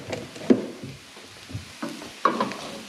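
A pan of food seasoned with pepper and garlic onion sizzles softly while a utensil stirs and scrapes through it in several separate strokes, close by.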